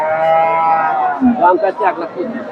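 A dairy cow with two pairs of teeth, yielding about six litres of milk, at the Dakumara cattle market in Bogura, heard as a low moo that rises under steady nearby talk and the chatter of the market crowd.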